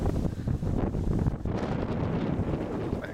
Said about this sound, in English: it's probably going to be pretty windy